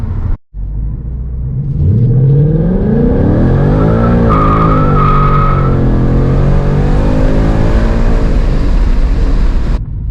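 A car with a Corsa cold air intake does a 0-60 acceleration pull, its engine note loud and close, rising steadily through the gears with a brief dip at the start and some tire noise, and no talking.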